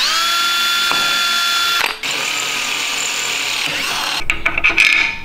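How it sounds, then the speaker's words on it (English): A power drill bores a hole in a part while fitting a bolt on a TT, a loud steady whine running nearly continuously with a brief dip midway and some scraping bursts near the end. "So let's drill a hole in this thing"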